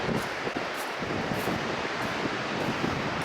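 Wind gusts roar across the microphone at a beach while ocean surf washes in steadily underneath, a dense, continuous rush with no voices.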